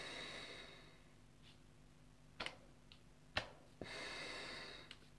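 Breathing through a Polish MC-1 gas mask fitted with a threaded filter: quiet, muffled hissing inhales and exhales with a few soft clicks of the valves, close to the ear and faint overall.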